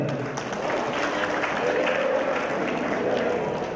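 A crowd applauds loudly to honour a guru at a temple consecration festival in Kadapa. The clapping stays dense and sustained throughout, with faint voices mixed in beneath it.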